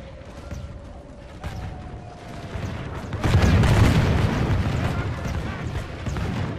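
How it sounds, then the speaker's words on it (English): A cannon volley fires in the Eras Total Conquest mod for Total War during an English battle at Paris. It bursts into a loud, rolling boom partway through after a quieter battlefield bed. "It's called firing cannons."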